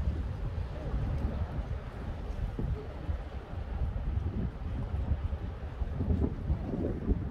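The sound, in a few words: strong wind outdoors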